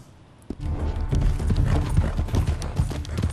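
Horse hooves clip-clopping at a steady trot in Red Dead Redemption 2, loud and close, a rapid continuous rhythm of hoofbeats with no talk over it.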